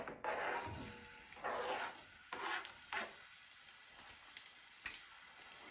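Shallots and cumin seeds sizzle and fry in a hot pan for Indian ginger cardamom rice, a steady close crackle with bursts of hissing as pieces hit the oil and get stirred.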